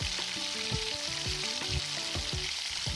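Chopped onion frying with whole spices such as cinnamon in a kadai over low heat, a steady close sizzle with clinking of a stirring spoon against the pan, no voices.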